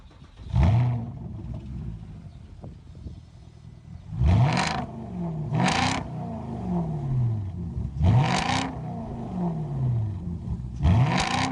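Porsche Cayenne GTS V8 exhaust blips in a series of about five sharp, loud revs at regular intervals, each rising quickly and falling away with a throaty burble between them.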